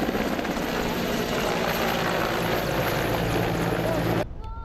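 A rescue helicopter flies close overhead with a loud, steady rotor roar and engine whine that cuts off abruptly near the end.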